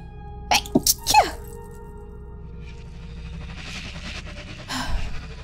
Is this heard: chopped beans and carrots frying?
no